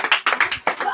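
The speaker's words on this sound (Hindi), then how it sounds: "बहुत बढ़िया, ताली बजाइए।" A quick burst of hand clapping, several sharp claps in rapid succession over about a second.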